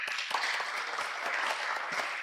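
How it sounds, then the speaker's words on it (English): Audience applause in a Bangalore college lecture hall, a dense steady patter of many hands clapping at close range, with a few sharper individual claps standing out. "Give him an applause."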